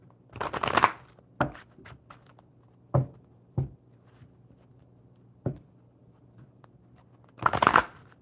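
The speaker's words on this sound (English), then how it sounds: "So, Yellow Rose, I will just go ahead and shuffle these Enchanted map cards for you" A deck of Enchanted map cards being shuffled, several crisp riffles and flicks in irregular bursts, close up and fairly quiet with no talking.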